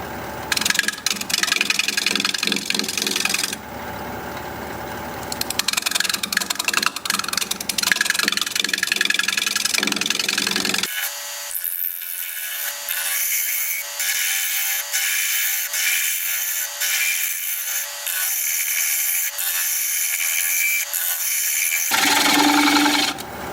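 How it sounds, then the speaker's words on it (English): Soft red cedar spins on a wood lathe while a scraper shears across it, a continuous buzzing hum with a gritty, rasping texture that shifts in pitch and thins out partway through. "I'm going to try shear scraping a little."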